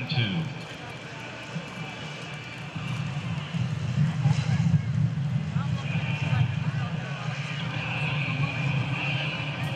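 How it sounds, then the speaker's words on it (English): A T-6C Texan II turboprop trainer touches down and rolls out at an airshow, its engine a steady, moderately distant roar with a faint whine, while an announcer talks over it. "as Mike Gameshow Rambo touches down and rolls out in the T-6C Texan II."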